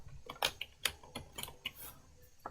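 Typing on a computer keyboard while entering data in Excel: a quick, uneven run of close, crisp key clicks over about two and a half seconds, with no talk.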